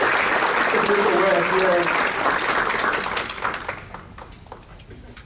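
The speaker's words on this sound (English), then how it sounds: "let's give a round of applause for the music" An audience at a school district staff awards ceremony applauds for the music, dense steady clapping that fades out toward the end, with a few voices faintly audible.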